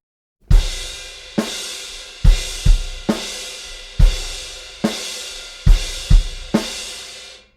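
Crash cymbal on a drum set struck in steady quarter notes, about eight loud washy hits, each ringing out briefly before the next, played alone.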